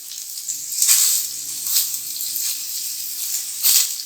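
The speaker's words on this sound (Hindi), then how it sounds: "अब हमने ये जो कबाब तैयार किए हैं स्टिक्स में, इनको हमने इसमें ऐड करना है और इनको हल्का हल्का सा फ्राई करना है" Kebab sticks of handi gola kabab frying in a pan, a steady oily sizzle with a few louder crackling surges as pieces settle and shift, close and continuous with no talk.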